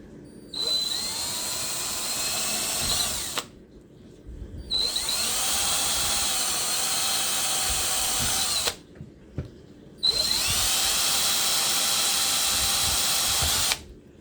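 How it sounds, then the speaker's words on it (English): A power drill whines in three long bursts, each running a few seconds with short pauses between, loud and close. "We got our holes drilled"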